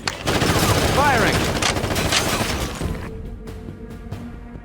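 Heavy gunfire in Ghost Recon Advanced Warfighter, a loud sustained burst of rapid shots with crashing impacts that fades into a few scattered reports, with voices mixed in.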